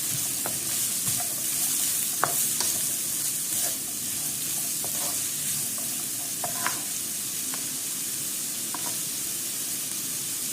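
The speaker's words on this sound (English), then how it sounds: "Mix it well and once again let it cook for a few minutes." Restaurant-style fried rice sizzles and fries in a pan, a constant loud hiss broken by repeated scraping clinks of stirring, close up with no talk.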